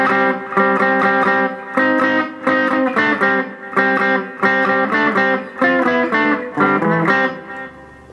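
An electric guitar riff, played in repeated strummed chord bursts with short gaps between them. It sounds clean to lightly driven, close and steady, with no talking over it.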